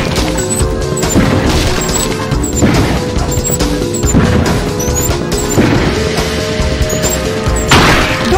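Huts being smashed in the Madagascar 2 video game, a run of loud crashing impacts at irregular intervals over game music and effects, with no talking.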